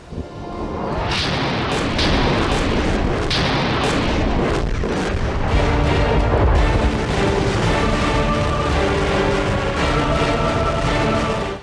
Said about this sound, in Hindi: अजरबैजान लगातार काराबाख में रॉकेट लॉन्चर से अटैक कर रहा है